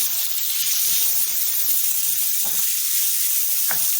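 Aubergine and courgette browning in a pan with cumin and curry powder for a chickpea curry, giving a steady close-up sizzle with a few soft stirring knocks.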